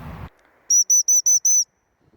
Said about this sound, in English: a whistle will sound the same no matter which family member blows this whistle